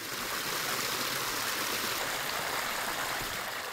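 Steady rush of water flowing in and out of rainbow trout farm ponds at a mountain farming site, a broad continuous wash that stays even and fairly close throughout with no voices.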